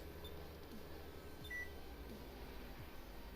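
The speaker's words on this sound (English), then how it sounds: "That beep tells me that I've just lowered it." A short electronic warning beep sounds once in Farming Simulator 17 as a seeder is lowered, a brief faint tone over a steady low tractor engine drone.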